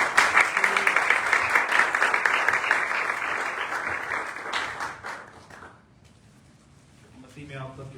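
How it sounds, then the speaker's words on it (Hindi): Congregation at a Sunday church service breaking into loud, sustained applause that fills the room, then fading out near the end, followed by a voice beginning to speak. "आए हम यीशु मसीह के लिए जोरदार तालियां बजाएं।"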